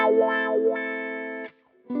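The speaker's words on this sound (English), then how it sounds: "this is how the Cry pedal sound with a clean sound" A clean electric guitar tone runs through a Kemper Profiler Cry wah pedal, which sweeps the sound open and closed. It rings as one sustained chord for about a second and a half, then stops briefly before a new strum starts.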